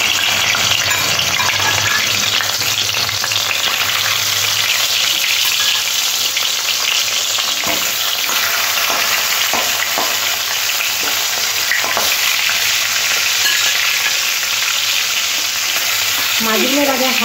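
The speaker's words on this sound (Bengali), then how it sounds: "এবার কড়াইয়ের মধ্যে তেল দিয়ে মাছটা ভেজে নেব" Fish frying in very hot oil in a wok, a loud, steady, dense sizzle with crackling spatters and occasional stirring scrapes, close up and continuous with no voices.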